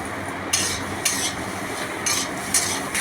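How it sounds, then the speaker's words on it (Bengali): Elephant foot yam curry with coriander and cumin powder being stirred and sautéed, a low steady sizzle with four or five short bright scraping strokes of a spoon across the pan, close, with no talking. "এবার আবারও ভালোভাবে নাড়িয়ে চাড়িয়ে আমি কষিয়ে নেব।"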